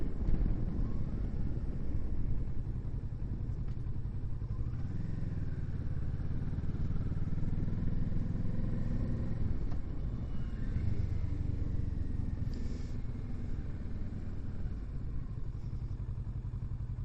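A motorcycle rides along a road on a farm outing, its engine a steady close rumble with gear changes and rising and falling revs throughout, recorded from a new bike-mounted mic with no talk.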